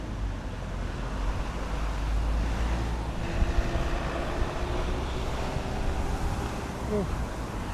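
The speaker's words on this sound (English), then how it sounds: "Oh, very windy again." Wind gusting during a walk along a Tokyo park path, a steady roaring rush buffeting the microphone, loud and continuous with faint background traffic.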